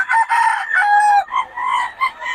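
Roosters crowing at a gamefowl seller's stall in a Bocaue market, several overlapping loud, nearby crows in quick succession with no other sound.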